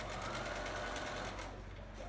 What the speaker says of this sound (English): now I'm going against the pleats, so just make sure that your pleats stay down as you're sewing over them